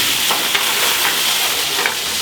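Steaks searing in a hot pan as cognac is poured in, a loud, dense, unbroken sizzle with a few faint clicks from turning the meat.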